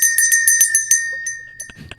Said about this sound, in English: it actually is a little Liberty Bell that I got when I went to Independence Hall this summer